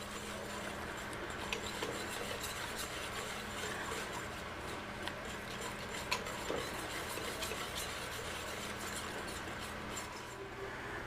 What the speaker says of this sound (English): Take a whisk, get that sugar mixed well.